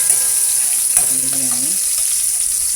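Garlic and onion stir-fry in a pan with a loud, steady, close sizzle throughout, while a voice speaks briefly over it.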